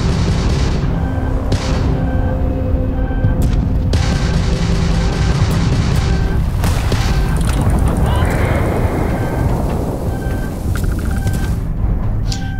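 Spaceship weapons firing during a space combat in Starfield, a steady roar of engine noise with scattered sharp blasts and booms, under occasional speech.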